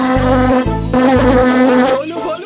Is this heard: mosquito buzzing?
yes